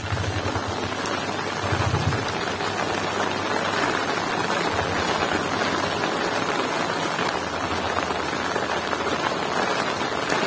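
Steady rain falls on an overcast Sundanese village in West Java, a dense even patter on roofs and surfaces, moderately close and continuous without talk.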